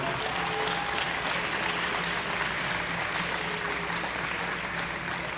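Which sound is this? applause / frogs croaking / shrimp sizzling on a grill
applause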